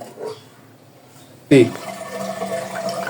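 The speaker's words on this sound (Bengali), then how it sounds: "এই যে এখানে হচ্ছে আমি বাজিগুলাকে ধুয়ে নিতেছি" Running water from a tap pours as fish is washed in a home kitchen before cooking. The sudden gush starts partway through and keeps flowing steadily, close and fairly loud, after someone speaks briefly at the start.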